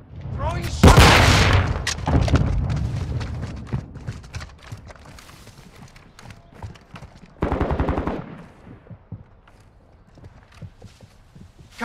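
Gunfire in Call of Duty: Modern Warfare II on a farm map during team deathmatch: a loud close burst early, then scattered shots and a second rapid burst later, with footsteps and quieter distant fire between.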